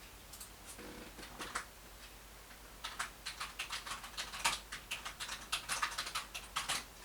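A computer keyboard clicks as a file name is typed in, with a few scattered keystrokes followed by a steady run of close, crisp taps.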